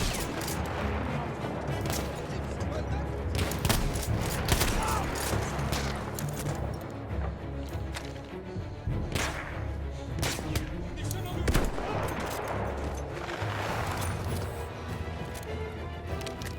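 Heavy gunfire in the video game Battlefield 1, sustained rattling volleys and sharp cracks mixed with deep booms, loud and continuous throughout a chaotic battle.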